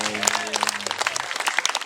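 An audience claps at a comedy stage performance, a dense burst of close applause lasting the whole moment, with a voice and a held tone briefly underneath at the start.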